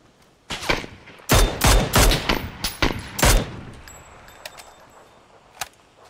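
Gunshots in the battle royale game PUBG: a burst of loud, sharp reports packed between about half a second and three and a half seconds, then a fading tail and one lone shot near the end.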